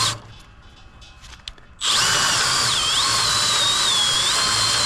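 Cordless drill lowering trailer landing gear with the clutch engaged: after a quiet start, a loud, close, continuous whine kicks in and holds steady with slight wavering pitch.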